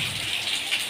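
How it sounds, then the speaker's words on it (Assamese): Steady hiss of heavy rain pouring down, a dense, even wash of noise with no voices. "এইফালে এই চাওকচোন, ইমান বৰষুণ, পূৰা বৰষুণ দি আছে"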